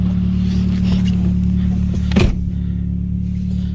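A gray Nissan Sentra idles steadily after an engine swap, a low constant hum with one brief louder surge midway, heard up close.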